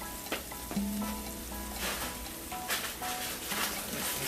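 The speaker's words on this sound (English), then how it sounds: "So I'm just going to saute my onions in some butter, right?" Onions saute in butter with a steady, close frying sizzle and occasional stirring scrapes over a low background hum.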